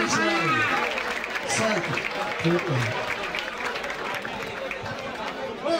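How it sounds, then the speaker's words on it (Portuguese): A crowd at the Batalha da Aldeia rap battle semifinal keeps up dense, sustained applause and chatter, with someone talking loudly over it throughout. "E aquelas palmas pra esse pequeno cheio de vida"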